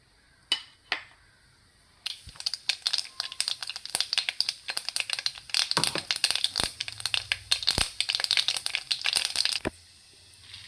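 Mustard seeds pop and splutter in hot oil for an evening snack, a dense run of sharp crackles and snaps that begins after a few isolated pops, stays close and busy, then stops abruptly near the end.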